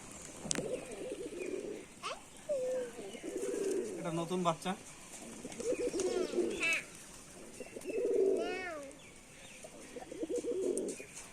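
Rajshahi Giribaz pigeons coo in repeated soft, throaty bursts while pecking at mustard seed nearby, with a few faint chirps and someone speaking quietly between the calls.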